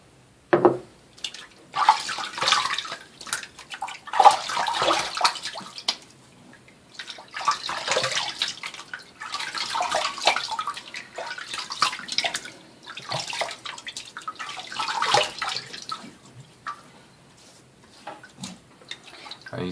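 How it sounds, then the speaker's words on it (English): Tap water runs and splashes steadily at a bathroom sink while a face is wetted before a shave with a Feather AC SS non-folding razor, close and continuous with uneven surges. "So I'm just going to wet my face"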